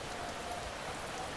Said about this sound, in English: Oh, the scary rain sounds. It's raining in the game.